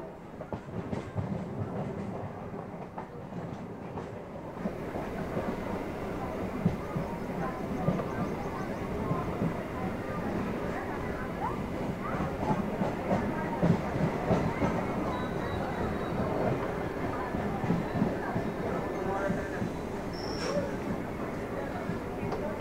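A Sealdah–Barasat local train near Sodepur moves onto line 2, with a continuous rumble and clatter of wheels heard from inside the carriage and faint voices underneath.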